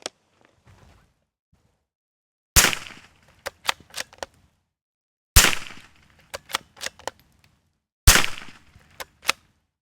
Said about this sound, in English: We're gonna be using this Ruger American chambered in 22 for the test, so you don't hear any action or anything, just the shot.